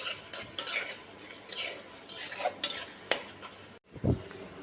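Chopped ginger and garlic fry in a pan for a fish curry while a spatula stirs and scrapes, with repeated metallic clinks and scrapes over a soft sizzle, ending in a short louder knock.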